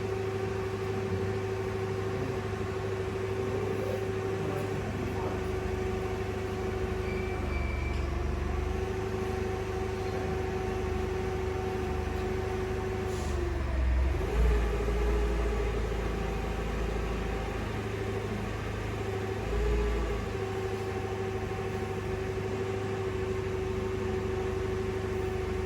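A 2017 Yamaha golf cart drives in reverse with a steady mechanical hum and a constant whining tone, plus low rumbling bumps partway through, with no talking.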